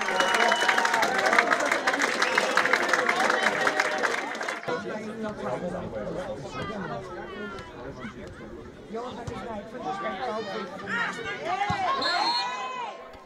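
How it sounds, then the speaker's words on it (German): A crowd at an amateur football match in Niklasdorf roars and cheers after a goal makes it 3:0, a dense, loud swell of voices that eases after a few seconds into excited chatter, shouts and whistles. "Der Jubel natürlich groß heute"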